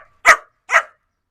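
A dog barks on command during obedience training, giving two separate sharp barks with a short pause between them, close and loud, with no talking.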